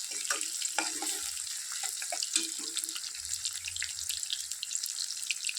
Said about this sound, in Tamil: பூண்டு, வெங்காயம், கருவேப்பிலை இது மூணையும் போட்டு நல்லா வதக்கணும்.